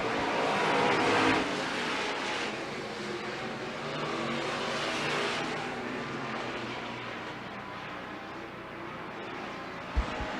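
Stock cars racing past the flag stand on an oval track, a sustained loud roar of engines swelling and fading as the field passes, with no voices heard.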